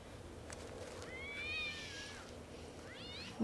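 A cat in a scene from The Prestige gives a few faint, drawn-out meows, rising and falling over quiet background hiss.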